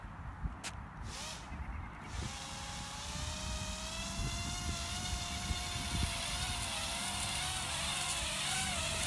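A drone's motors whirring up in a cul-de-sac, a rising, wavering buzzing whine that climbs and wobbles in pitch as it struggles to lift off, after a couple of brief handling thumps.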